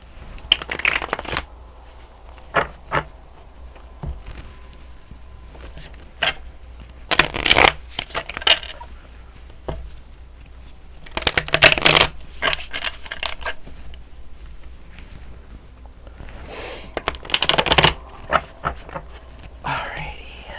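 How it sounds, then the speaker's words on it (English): A deck of tarot cards is shuffled by hand in several separate bursts of crisp riffling and flicking, with quiet pauses in between and soft, close handling noises. "I wanted to shuffle them in front of you"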